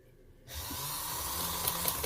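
A sewing machine stitches fabric for a chak box trouser design, starting after a short quiet moment into a steady, fast motorized whir that runs without pause.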